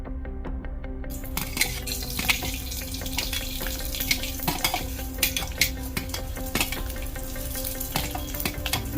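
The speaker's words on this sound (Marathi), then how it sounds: "पहिल्यांदा आपण भाजण्याचं जे साहित्य घेतलंय ते सगळं भाजून घेऊया." Malvani masala ingredients roasting in oil in a pan over low heat, a steady close sizzle with occasional light scrapes and clinks of a stirring spoon throughout.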